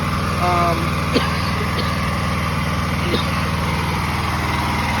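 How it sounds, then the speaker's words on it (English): An 11 horsepower Honda pressure washer engine runs at a steady, loud drone up close, a continuous low throb that holds throughout while a few faint clicks and a brief voice sit underneath. "There's my pressure washer. It's 11 horsepower Honda."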